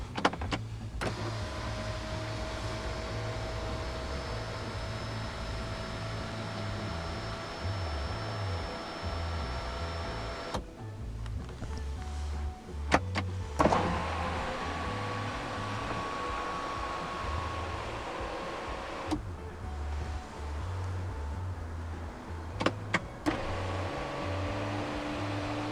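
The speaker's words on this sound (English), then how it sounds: "this car does have a panoramic sunroof with a powered shade." A powered panoramic sunroof shade on a 2015 BMW 225i Active Tourer Sport Line runs in a steady electric motor whir for several stretches, stopping and starting with brief clicks in a quiet cabin, with no talking.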